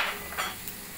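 Capsicum sautéing in a pan for a ridge gourd vegetable dish, giving a short burst of soft sizzle with a faint scrape of stirring, close and steady without any talk.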